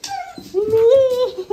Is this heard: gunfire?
no